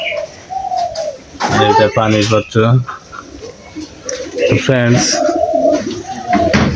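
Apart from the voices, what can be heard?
pigeons cooing at their cages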